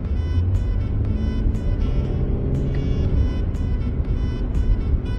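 Naturally aspirated engine of a Hyundai Genesis car with no turbo muffling the exhaust, a steady, fairly loud drone and rumble heard from inside while driving, with no talk.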